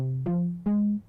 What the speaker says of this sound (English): I got the string to accompany the lead.